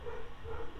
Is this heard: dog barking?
yes